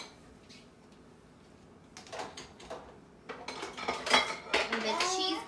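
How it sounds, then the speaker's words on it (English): Metal utensils clink and clatter as they are dropped into a small dishwasher utensil crate in a home kitchen, soft at first and then a busy run of rattling jangles, with a faint voice in the background. "Anything of Harrison's utensils, they kind of go in this little dishwasher crate, or I put them in the utensil crate on the bottom."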